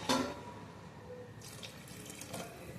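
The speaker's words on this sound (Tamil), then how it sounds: "கொஞ்சம் எக்ஸ்ட்ரா தண்ணி ஊற்றிக்குவோம்" Extra water is poured into a pan of chicken kurma, giving a short splash followed by soft trickling and gurgling liquid sounds, quiet and close.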